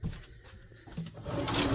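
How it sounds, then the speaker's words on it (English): Wooden storage drawer under a camper RV bench, a short sliding rumble and knock as it moves, followed by a louder scraping rush toward the end, close and distinct. "I made this drawer, you know, open that up so it's easier access underneath that storage bench there"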